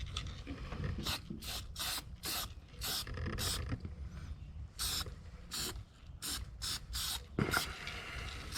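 Weldable primer sprayed from an aerosol can onto the body of a 1967 Chevelle in a garage, a series of short, sharp hissing bursts, around a dozen, separated by brief pauses and occasional faint handling noises.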